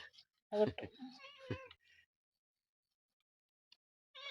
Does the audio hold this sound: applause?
no